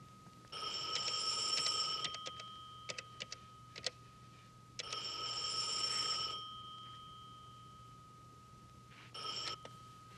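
Telephone bell rings in repeated long bursts with pauses between, in a quiet room, fairly faint and alone, with a few clicks between rings.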